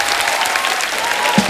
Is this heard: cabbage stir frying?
no